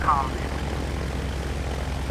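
Light aircraft engine at takeoff in Microsoft Flight Simulator X, a steady propeller drone running throughout, opening with a brief radio-style voice over the engine.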